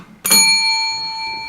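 A single bell struck once to open the shop during a live broadcast, a sharp clear ring that sustains and slowly fades, heard alone.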